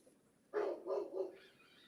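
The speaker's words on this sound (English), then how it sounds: "Oh, that's Kave, my neighbor's dog" A neighbour's dog barks three times in a quick run, moderately close but fairly quiet, followed by a softer trailing yelp, with no talking over it.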